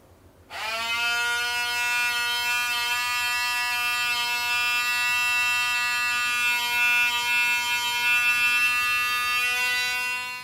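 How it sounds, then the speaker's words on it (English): A loud, steady high-pitched electric buzz starts abruptly and drones on continuously, a harsh Waterpik Sonic-Fusion sonic toothbrush running without pause. "When in action, the brush is actually really loud. It produces this sort of high-pitched noise"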